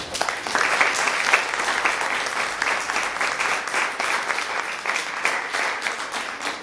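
An audience at a book presentation at a mining-themed book fair claps steadily and fairly loudly throughout, a dense even patter of many hands with no talking.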